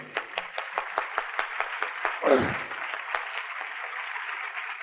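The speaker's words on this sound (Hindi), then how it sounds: "हम जोर से तालियां बजा करके श्री द्विवेदी का स्वागत करेंगे।" A gathering at a Navratri sadhana camp claps to welcome Shri Dwivedi, a muffled, quick run of rhythmic claps with a dull thump partway through, then a softer murmur of noise.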